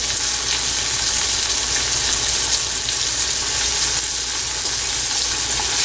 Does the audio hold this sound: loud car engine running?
no